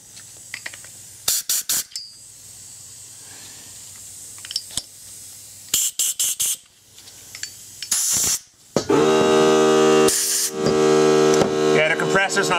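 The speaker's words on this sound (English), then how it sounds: "the compressor's not the quietest thing in the world" An air compressor's blowgun blasts air through the passages of an SU HIF4 carburettor from a late MGB, giving several short sharp bursts and then a long, loud sustained blast with a strong motor hum.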